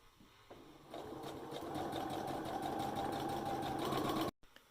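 An electric sewing machine stitches the top and bottom edges of a cloth face mask, a steady close whirring hum that ramps up, runs evenly for about three seconds, then cuts off abruptly.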